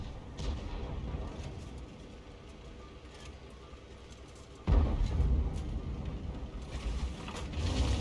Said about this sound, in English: Heat rounds again.